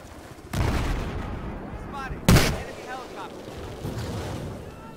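Anti-aircraft gunfire in a helicopter-shootdown video game: two sharp loud bursts, the second heavier, over a rumbling background with someone talking throughout.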